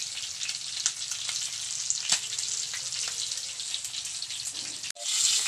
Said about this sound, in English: the oil will pop up.